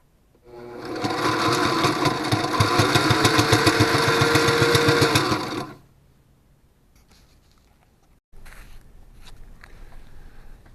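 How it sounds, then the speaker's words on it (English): A sewing machine stitches binder tape onto fabric in a steady, fast rhythmic whir lasting about five seconds, close and loud, then stops, followed by quieter handling noises. "And then I sew my binder tape on."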